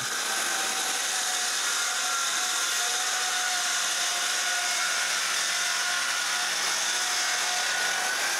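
Power saw cutting a piece of maple wood in a woodworking shop: a continuous high, bright whining buzz held at steady loudness throughout, with no talking.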